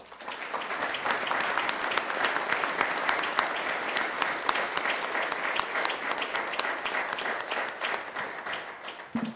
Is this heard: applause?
yes